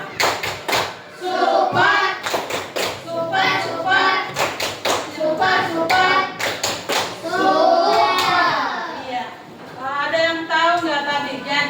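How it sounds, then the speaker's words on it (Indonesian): A classroom group performs a rhythmic 'tepuk super' clap for a team, with sharp hand claps in quick patterned bursts, mixed with children's voices and chanting throughout. "Iya, tepuk super buat kelompok 5."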